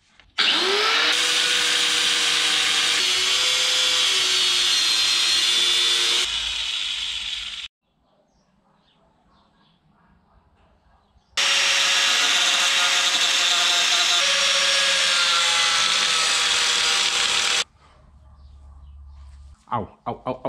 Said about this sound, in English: we've got an angle grinder, we've got some safety goggles, and let's get cutting